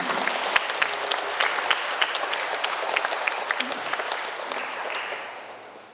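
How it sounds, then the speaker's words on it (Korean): Audience applause at a Catholic parish education lecture welcomes the invited lecturer, a steady wash of many hands clapping in a hall that holds for several seconds and then tapers off. "박수로 환영합니다"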